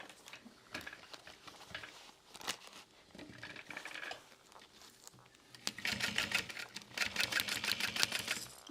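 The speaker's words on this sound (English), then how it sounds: "And then we'll sew around all of it." Sewing machine stitching around the edge of a handmade Mav Pack, starting with quieter fabric handling, then a close, rapid rhythmic run of needle strikes that grows louder near the end, with no talk.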